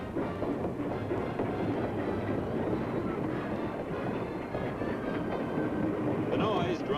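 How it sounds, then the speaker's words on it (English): Homeward-bound special passenger train pulling out of a station in Japan, a steady loud rumble of rolling wagons with faint clatter throughout, under a busy crowd and voices. "the homeward bound special train chugs out of the station"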